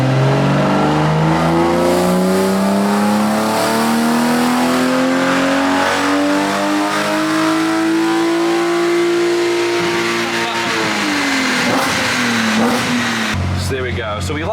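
A BMW 328 fitted with a 330 ZHP engine swap roars through a fourth-gear pull on a dyno, its loud engine note climbing steadily in pitch for several seconds before backing off near the end.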